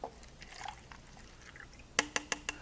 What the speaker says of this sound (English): When I pour it into a different container